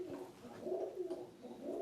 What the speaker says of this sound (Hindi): डरा दिया, कबूतर है ना